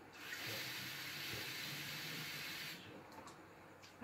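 Water poured steadily into a bottle during a pitch demonstration, a close, continuous rushing hiss that fills the first few seconds and then stops abruptly, leaving quiet room tone.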